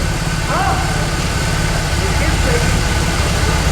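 A BMW R18 motorcycle engine runs steadily close by, a low, throbbing idle with a constant mechanical drone and faint whining tones, loud and unbroken throughout, with no clear rev.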